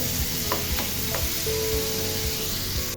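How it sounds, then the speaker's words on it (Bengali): Steady loud sizzling of onion, tomato and vegetables frying in oil with spices, with a few soft scraping stirs of a spoon through the pan, no voices. "মশলাটা দিয়ে আমি খুব ভালোভাবে মিশিয়ে নিচ্ছি"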